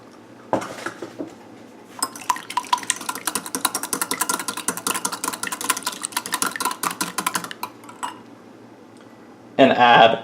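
An egg is whisked briskly for batter, with fast rhythmic clinking of a whisk against a bowl that runs for several seconds, close and clear, framed by brief talk before and after.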